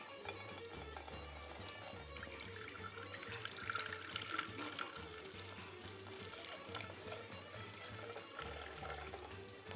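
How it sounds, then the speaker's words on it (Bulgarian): Milk pours into a small pot in a kitchen, a continuous trickling, splashing stream with a faint low hum behind it, running steadily the whole time. "Един литър мляко, половината го наливам в тенджерката."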